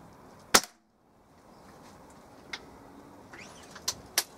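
A single sharp, near crack from a Weihrauch HW97 spring air rifle with a replaced spring, followed by quiet and several lighter clicks and taps spaced apart.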